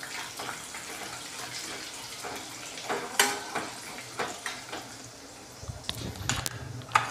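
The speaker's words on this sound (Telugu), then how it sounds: "మినప్పప్పు 1 స్పూన్, జీలకర్ర 1 స్పూన్, ఆవాలు 1 స్పూన్. కొంచెం వేగాలి ఇవి." Urad dal, cumin and mustard seeds frying in hot oil in a pan, a steady sizzle broken by scattered sharp pops and crackles as the seeds burst, no voices.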